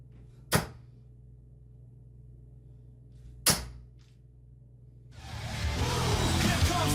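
Six-sided E-Myth BIAN darts strike a dartboard in two sharp, separate thuds about three seconds apart in a quiet room. A rising broadband rustle follows the second thud.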